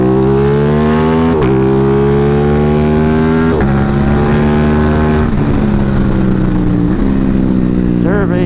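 Aprilia Tuono 660 motorcycle with an UpMap tune, quick shifter and auto blipper, accelerating hard with a loud, close engine note that climbs in pitch and drops briefly at each quick upshift, several shifts in a row, with wind noise.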